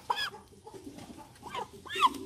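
A live chicken of about 2 kg, held in the hands beside an ostrich pen, gives a few short clucks and squawks, close and fairly quiet, with brief pauses between them.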